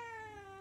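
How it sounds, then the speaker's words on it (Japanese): Pet cat giving a single short meow, close and fairly quiet, with a clear rising-then-falling tonal cry and no other sound around it. "にゃーだって。"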